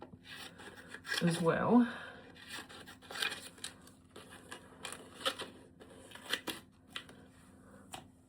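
Scissors snip and rasp through paper letters for a miniature library book nook, a cluster of close crisp cuts followed by lighter intermittent snips and rustles, with a brief spoken remark.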